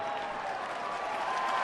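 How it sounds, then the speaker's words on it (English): A baseball crowd lets out a sarcastic cheer and scattered applause, a steady distant roar with no clear peaks, brief and even throughout. "A sarcastic cheer coming from the crowd"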